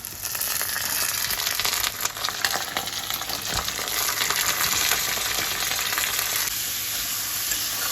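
Onion and local chicken frying in a kadai, a loud continuous sizzle with crackling and occasional scraping stirs, close up with no talking.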